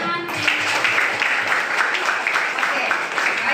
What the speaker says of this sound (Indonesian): Silakan duduk. Tepuk tangan.